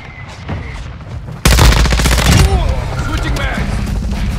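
Gunfire in Call of Duty Modern Warfare 2 multiplayer: a loud, rapid automatic burst bursts in after quieter battlefield noise, lasts about a second, then gives way to echoing rumble and distant shots.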